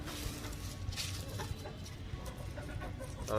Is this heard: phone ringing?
no